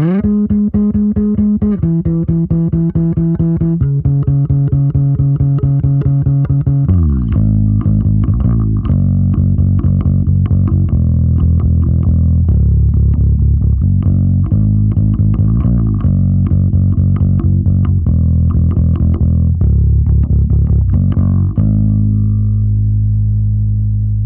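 An electric bass compressed through a Heritage Audio Successor bus compressor plays a sustained, thick riff, steady in level with a slightly gritty tone, first in held notes then a busier line.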